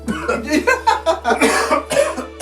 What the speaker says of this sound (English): He still has a cough